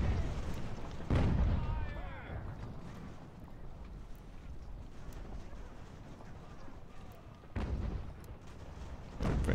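An artillery battery firing in a strategy video game, with a few heavy booms punctuating a rumbling battlefield ambience, one near the start and another later, under a spoken voice.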